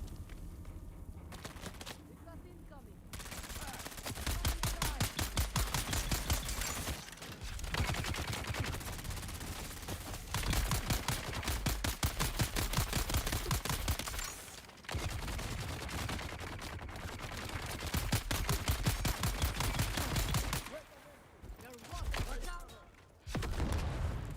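Rapid bursts of gunfire and repeated grenade blasts from the Dune: Awakening video game, dense and loud for most of the stretch with brief lulls between volleys.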